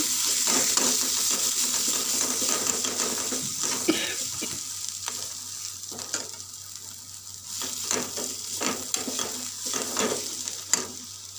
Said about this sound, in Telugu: ఈ పప్పు దాంట్లో వేసి బాగా వేపాలి